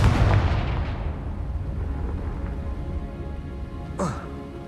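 A Confringo fire spell blast in the Hogwarts Legacy video game, a loud boom at the start that fades into a rumbling tail, with a sharper whoosh near the end.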